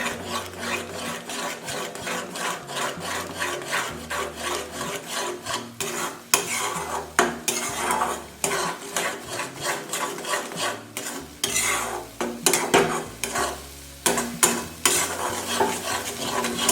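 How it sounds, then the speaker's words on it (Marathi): A spoon stirs and scrapes egg bhurji in a pan over medium heat, a steady, close rasping and scraping in quick repeated strokes over a soft sizzle, with no voices. "आता अशा पद्धतीने आपण व्यवस्थित असं हे परतावून घ्यायचं"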